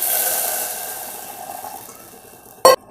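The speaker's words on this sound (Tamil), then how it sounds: "இப்போ தண்ணி ஊற்றிக்கலாம்" Water pouring into a pan of sago and carrot while making payasam, a steady splashing flow that gradually softens before ending with a brief louder clatter.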